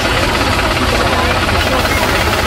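A big single-cylinder diesel Field Marshall tractor engine idles steadily close by, a continuous low chugging rumble with a dense rattling texture throughout.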